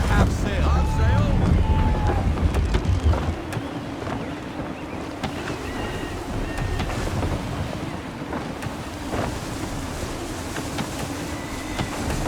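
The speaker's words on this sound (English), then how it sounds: "Gusty winds can be difficult to manage." A sailing ship in Assassin's Creed III pushes through gusty wind and waves, a steady loud roar of wind and water with creaking underneath, continuous and close throughout.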